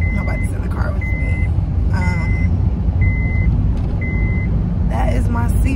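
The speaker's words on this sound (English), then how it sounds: "That is my seatbelt alerting me" A car's seatbelt warning chime repeats as a steady series of short, evenly spaced beeps about once a second over low road and engine rumble inside the moving car.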